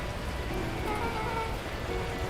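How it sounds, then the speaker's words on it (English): Torrential rain pours down in a steady, dense hiss of falling water, continuous and moderately quiet, with no voices. "At that moment, the heavens opened up, unleashing torrential rain."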